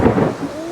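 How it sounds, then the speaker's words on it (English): A thunderstorm with steady rain and a deep rumble of thunder, heavy and close, lasting under a second with no voices. "We got a big storm rolling through."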